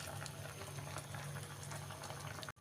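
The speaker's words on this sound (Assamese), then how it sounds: "চেনিখিনি উতলি আহিছে।" Sugar syrup for raw mango murabba bubbles steadily in a pan over a low flame, a close, continuous simmering fizz with fine popping bubbles throughout and no talking.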